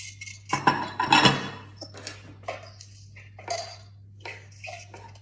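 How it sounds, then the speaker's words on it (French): Cooked beetroot is diced into small cubes with a knife on a board, giving a quick run of sharp taps and clatters, then sparser, softer knocks. "on va commencer par découper les betteraves en petits cubes"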